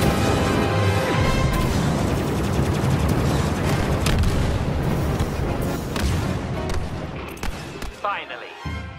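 A power generator explodes amid a Star Wars Battlefront battle on Crait, a video game, in a dense, loud rumble of blasts and crashing debris mixed with constant gunfire, then it thins to scattered hits at the end.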